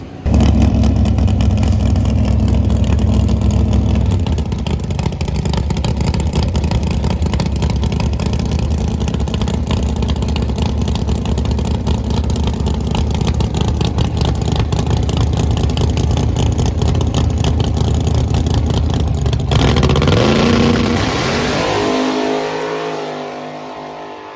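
A nitrous drag car makes a pass down a no-prep track, its engine roaring loud and sustained at high revs for about twenty seconds before abruptly cutting to a lower, fading rumble as it slows.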